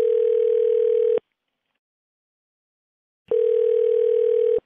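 Steady telephone dial tone heard while placing a call, loud and continuous for about a second, cutting to silence, then returning for another long stretch, with no voices.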